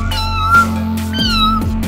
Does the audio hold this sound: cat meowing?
yes